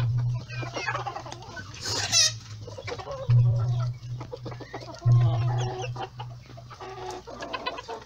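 Ornamental chickens, hens and roosters penned together, cluck and squawk in overlapping bursts nearby, with a low steady hum underneath and a brief sharp call partway through.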